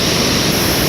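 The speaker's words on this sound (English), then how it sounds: "Words can't even describe this waterfall." A massive waterfall in Oregon roars loud and close, a dense unbroken rush of falling water with no voices.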